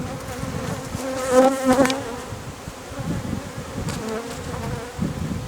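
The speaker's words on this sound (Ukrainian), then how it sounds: "Дивіться, який вулик. Скільки бджоли." Honeybees swarm around a hive and close to the recorder, a dense, wavering buzz that swells and fades as individual insects pass near.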